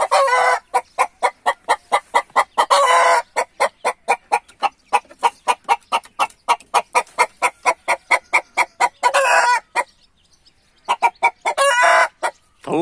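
Chickens in a coop give a close run of rapid, rhythmic clucks in fast pulsing bursts, with one short break before the clucking resumes.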